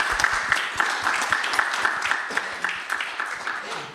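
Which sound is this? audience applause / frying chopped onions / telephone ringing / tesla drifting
audience applause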